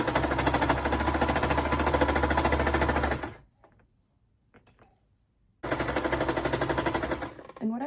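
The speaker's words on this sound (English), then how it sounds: "But now I'm just going to sew here." A serger sewing machine stitches fabric for a T-shirt in fast, rhythmic bursts: one long run, then a short silence with faint handling noise, then the machine starts up again close by.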